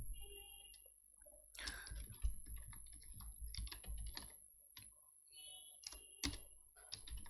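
Scattered soft taps on a computer keyboard while a code comment is entered, quiet and close, with long pauses between small bursts of keystrokes and no voices.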